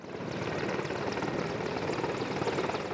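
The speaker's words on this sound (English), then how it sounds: "a Merlin Mark IV helicopter similar to this one crashed during that training" Royal Navy Merlin Mark IV helicopter flying, a steady, loud broadband rotor and engine roar with a fine rapid pulsing texture that continues unchanged throughout, with no voices.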